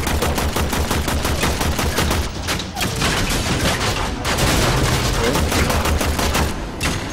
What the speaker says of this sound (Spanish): Tengo un tipo disparando por otro lado